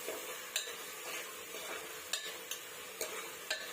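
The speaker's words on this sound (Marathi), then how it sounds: "त्यात मी 2 टोमॅटो घालते बारीक कापलेले आणि टोमॅटोसुद्धा आपल्याला आता परतून घ्यायचे आहेत" Finely chopped tomatoes sauté in a masala paste in a pressure cooker for chicken biryani, a soft steady sizzle with several sharp clinks of a spoon scraping the pot as it is stirred.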